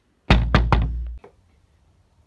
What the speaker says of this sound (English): Let's knock instead.